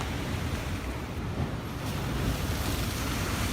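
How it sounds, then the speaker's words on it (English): Ocean surf washes steadily, a broad continuous roar of waves with some wind noise, fairly soft and unbroken, with no voices. "Listen to the ocean."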